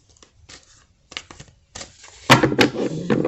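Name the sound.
shuffling a deck of cards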